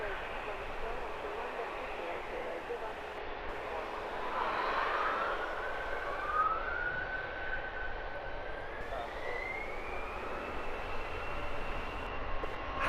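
An EasyJet Airbus A320-200 sits lined up on the runway at Luton Airport, ready for departure, its engines giving a steady, distant roar that swells slightly midway, with a voice talking over it.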